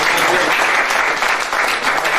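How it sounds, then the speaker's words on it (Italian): A dense burst of audience applause at a conference on vineyards and landscape, loud and close, filling the short clip without pause. "ringrazio te Claudio, credo meriti una grande applauso."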